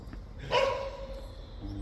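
A dog gives a single short bark at a distance in a quiet outdoor spot where people walk dogs past, with faint background ambience around it.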